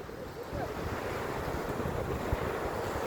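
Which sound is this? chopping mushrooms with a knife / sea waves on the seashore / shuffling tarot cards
sea waves on the seashore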